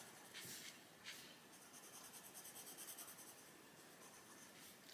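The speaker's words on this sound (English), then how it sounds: "You can hear these pencils are a little bit scratchy on this paper" Dry, raspy scratching of a coloured pencil dragged across paper, steady strokes with a brief quicker burst near the middle, close and fairly quiet.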